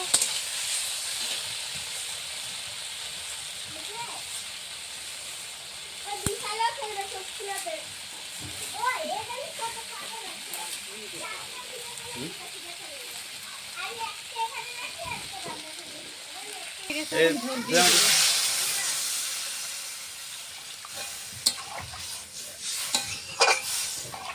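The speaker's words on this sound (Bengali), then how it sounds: "একটু কষাবো" Spices for a fish curry being sautéed in a pan, a steady soft sizzle with occasional stirring scrapes and one louder hissing surge near the end, with voices talking nearby through much of it.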